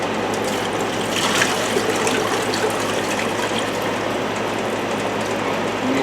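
Rice being rinsed in water by hand: continuous close sloshing and trickling with small clicks and grainy rustles, steady throughout, no talking.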